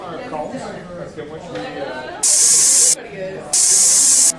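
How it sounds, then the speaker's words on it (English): Two sharp, loud hissing bursts of pepper spray cut in between people talking, each lasting under a second. "Pepper spray."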